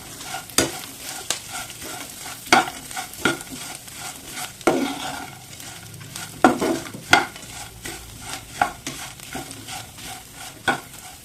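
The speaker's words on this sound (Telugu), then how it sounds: "మనం తయారు చేసుకున్న బెండకాయ ముక్కలన్నీ వేసేసుకోండి. వేయించి పెట్టుకున్నాం కదా, అవన్నీ బాగా మిక్స్ చేయండి." Fried okra pieces are stirred in a pan for a Telugu okra fry, a utensil scraping and clattering in irregular strokes over a soft steady sizzle, close and fairly loud.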